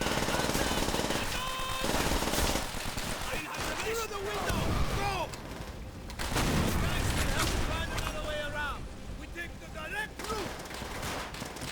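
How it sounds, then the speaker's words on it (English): Dense gunfire in a Call of Duty match, rapid bursts of automatic shots and scattered bangs crackling through most of the stretch with brief lulls, with a voice talking over the game. "Quit shooting me."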